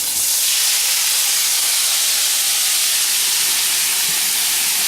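Half a pound of crawfish tails sizzles loudly in melted butter and a little olive oil, making a steady, dense hiss that lasts the whole time without pause.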